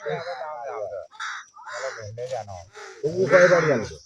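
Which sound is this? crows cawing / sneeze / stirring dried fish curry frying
crows cawing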